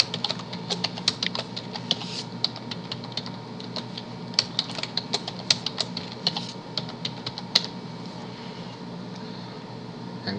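Steady, close clatter of fingers typing a password on a computer keyboard, rapid irregular key taps with a few sharper strokes, alone with no talk.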